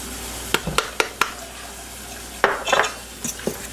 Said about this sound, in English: And then just stir that in as well.